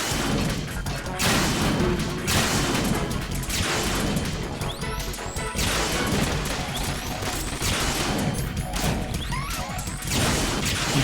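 Loud crashing explosion blasts and smashing impacts in Metal Gear Solid 2 repeat throughout, layered with whooshing debris in a dense, chaotic game soundscape.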